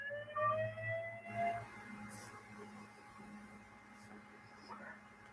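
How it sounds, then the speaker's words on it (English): A back-bedroom alarm in a home sounds steady electronic tones near the start, then fades into a low, constant hum. "That's my back bedroom alarm sound."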